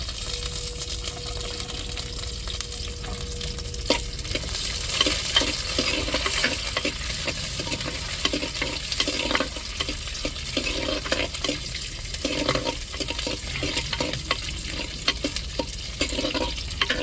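Small onions and curry leaves frying in oil for a clay-pot crab curry, a steady close sizzle with a spoon scraping and stirring through the pan, continuous for the whole stretch with no voices.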